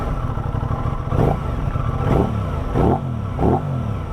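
An Aprilia RS660 sport motorcycle in dynamic mode revs hard four times in close succession, each throttle blip rising and falling over a steady deep idle rumble, heard up close and loud with no talking.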